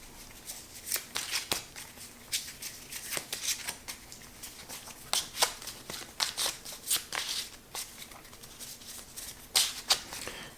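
Playing cards being shuffled back into a deck during a Raxxon board game session, a run of crisp riffling and flicking bursts with short pauses, close and fairly quiet, with no talk over it.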